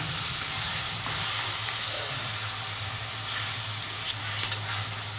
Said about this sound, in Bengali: ভালো করে নেড়েচেড়ে এর মধ্যে আমি দিয়ে নেব ফুলকপির ডাঁটি পেস্ট করে রাখা